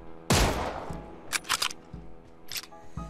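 Automatic gunfire from PUBG Mobile opens with one loud, close burst, followed by several shorter rattling volleys spaced a second or so apart.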